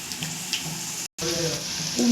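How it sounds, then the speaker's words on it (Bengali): Round chicken pakora balls sizzling in hot oil over a gas flame, a steady bubbling fry with faint stirring, broken by a short cut. "এগুলো লাল লাল করে ফ্রাই হচ্ছে"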